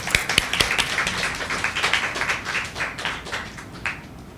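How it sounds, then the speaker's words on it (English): Audience applause welcoming a speaker at a free reading event, a short burst of clapping that starts with a few sharp claps and swells into irregular, moderately loud applause before tapering off. "With a round of applause,"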